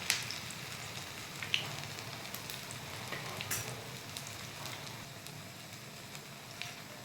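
Onion bread pakoda frying in hot oil in a home kitchen: a steady, soft sizzle and crackle throughout, with a couple of faint clinks from utensils and no voices.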